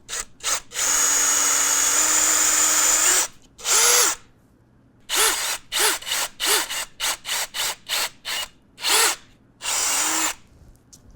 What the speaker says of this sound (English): those two locations that we have marked, we're going to go ahead and drill